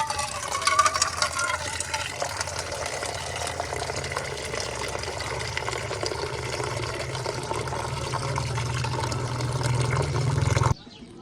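Water running from a tap into bottles in a village home, a continuous splashing gush close by that shifts in tone as a vessel fills, then stops abruptly near the end.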